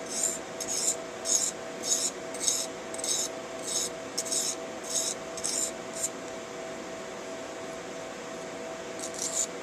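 A knife is stroked across a Norton Econo sharpening stone in quick, close, rhythmic scrapes, about a dozen short strokes, then a pause, then a couple more at the end, with a faint steady hum beneath.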